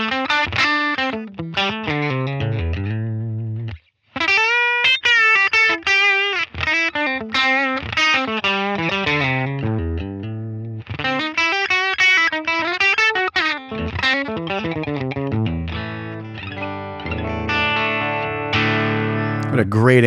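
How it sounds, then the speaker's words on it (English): A distorted Vigier Expert Strat-style electric guitar through a Helix amp modeler's Divided Duo amp plays a melodic lead with sustained, singing notes and quick runs, loud and continuous with a brief pause early on. "I'm playing my Vigier Expert Strat style guitar."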